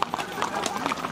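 Horses' hooves clip-clop in a mounted cavalcade at a birthday celebration, a quick run of light hoof strikes heard under steady nearby talking and greetings.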